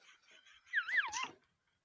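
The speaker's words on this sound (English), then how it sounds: "Shut the dog up" A dog named Max gives a brief whining yelp that rises and falls, preceded by faint murmuring sounds, then silence.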